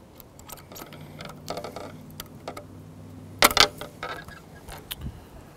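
A Shimano fishing reel's side plate snaps open with a sharp, loud click midway, surrounded by small plastic ticks and rattles as the spool is slid out, close up with no talking.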